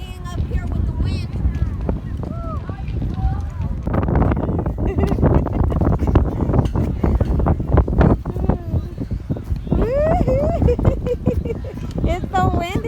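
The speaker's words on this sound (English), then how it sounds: "It's so windy today," Strong wind buffets the microphone with a constant low roar on a high, exposed spot where a horse is nearby, while people talk throughout.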